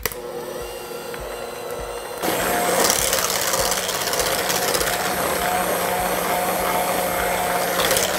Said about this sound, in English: we'll start out on the slow speed and whisk this until stiff peaks form